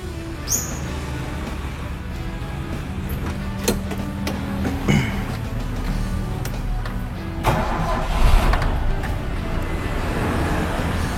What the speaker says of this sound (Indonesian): Coba kita nyalain mesinnya ya.